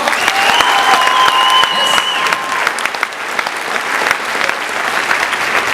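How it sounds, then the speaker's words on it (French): Loud, sustained audience applause at a Montréal event for the founding of the Institut de cardiologie de Montréal, with a dense crowd clapping throughout and a couple of whistle-like tones early on. "Une bonne main d'applaudissement tout le monde."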